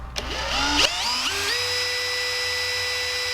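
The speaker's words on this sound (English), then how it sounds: "I'm gonna do this with a hand drill because it's got a bit more speed" A hand drill spins up in a few stepped bursts of rising pitch, then holds a steady high whine, close and loud, while sanding a small wooden fishing lure, with no talking.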